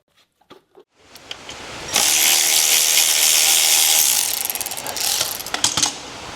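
A ratchet loosens a bolt on a John Deere 2038R tractor, a few faint clicks leading into a loud, fast run of ratcheting that holds for a couple of seconds, then slows into separate clicks.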